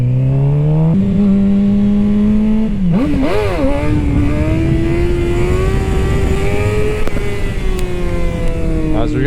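A motorcycle engine revs hard and holds loud, close and continuous throughout, with a brief rising-and-falling throttle blip partway through as the clutch is dumped for a wheelie.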